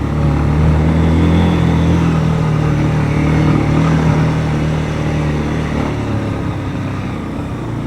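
A large-engined motorcycle labors up a steep, mossy cement road in mountain country, its steady, loud drone holding throughout with gradual easing near the end.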